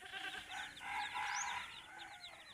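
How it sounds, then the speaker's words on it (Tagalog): Red junglefowl (labuyo) chicks and hens, a faint flurry of high, rapid peeping from several chicks with soft hen clucks beneath, heard nearby at low volume. "Mga sisiyo."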